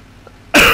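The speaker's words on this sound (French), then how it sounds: "j'arrête pas de tousser." A single sharp cough bursts out after a quiet moment, close and loud, cutting off abruptly at the end.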